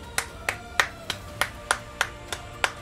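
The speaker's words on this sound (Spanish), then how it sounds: "un aplauso para el chat" A single pair of hands claps nine times in a steady, even rhythm, sharp and close, with faint background noise.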